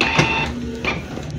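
A Canon G3411 inkjet printer feeds a sheet of paper, close mechanical whirring and clicking with short motor bursts and a rattle of the feed rollers.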